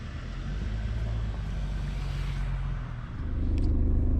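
A car passes on a road near a dam-area gravesite, its low engine and tyre rumble building and fading as it goes by, then swelling again, with no talking.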